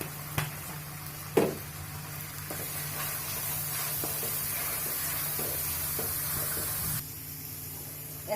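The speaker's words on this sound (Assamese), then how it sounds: "হালধি 1 চামুচ দি এইখিনি পুৰা ভাজি লম" Cumin, chilli and turmeric powder sizzle steadily in hot oil for a jackfruit curry, a close soft hiss with occasional clinks of a spoon stirring the pan.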